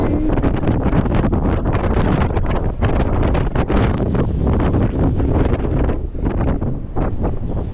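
Strong wind buffets the microphone in loud, rumbling gusts throughout, a constant roaring blast with no voices heard.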